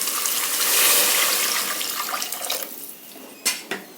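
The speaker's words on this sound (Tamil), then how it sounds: "இப்போ இதில் தண்ணி ஊற்றிடலாம்." Water is poured from a vessel into a pot of sautéed vegetables for vegetable pulao, a loud continuous gushing splash that tapers off into a few final drips and clinks.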